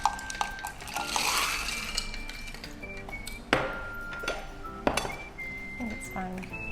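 Ice rattling and clinking inside a bubble tea shaker, with sharp glassy clinks and a couple of louder impacts, close and moderately loud amid kitchen clatter.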